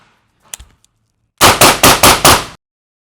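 A rapid burst of five suppressed rifle shots in 6mm ARC fitted with a SureFire suppressor, sharp and loud at close range, after a few faint handling clicks.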